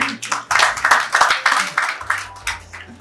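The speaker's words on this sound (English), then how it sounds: "Please a round of applause" Audience applause at a policy dialogue session, with individual claps audible in a short, uneven burst and a low hum beneath.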